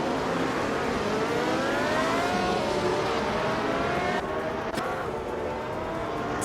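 Classic F1 race cars scream around a tight chicane in a racing video game, their high engine whine rising and sliding in pitch as several cars rev together, loud and continuous.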